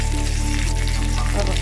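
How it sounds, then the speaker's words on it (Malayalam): Mustard seeds fry in hot oil in a heated pan for a Kerala chickpea curry, giving a brief, close, steady sizzle. "ചൂടായ ചട്ടിയിൽ എണ്ണ ഒഴിച്ച് കടുക് വറുക്കുക."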